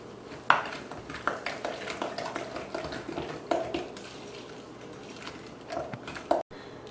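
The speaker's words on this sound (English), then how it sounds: "And our sugar and spice mixture, and then just mix that all together." Pumpkin pie filling being mixed with sugar and spice in a bowl, giving soft scraping and stirring with a few sharp clinks of a utensil against the bowl, steady and close, with no talking.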